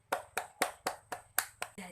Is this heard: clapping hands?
yes